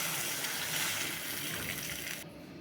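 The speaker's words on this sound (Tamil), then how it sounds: "இப்போது சின்ன சொம்பால் ஒரு சொம்பு தண்ணி ஊற்றிக்கலாம்." A small pot of water poured into a cooking pan of semiya kichadi makes a steady splashing gush that runs for about two seconds. It stops abruptly near the end.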